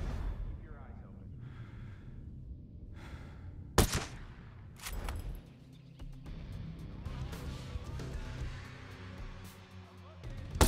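Sharp gunshots crack in Ghost Recon Breakpoint, a couple of loud isolated reports amid wind and movement noise, with voices talking between the shots.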